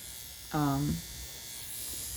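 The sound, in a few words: electric shaver shaving eyebrows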